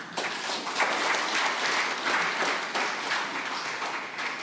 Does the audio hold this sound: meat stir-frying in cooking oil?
no